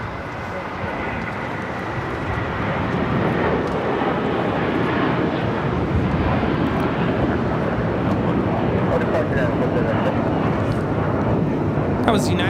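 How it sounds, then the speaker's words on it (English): A United Airlines Boeing 757-300 jet roars as it takes off from Los Angeles LAX, a steady, building broadband rumble heard from a distance, with occasional voices talking beneath it. "That was United Airlines 1431 taking off to Honolulu on the 757-300"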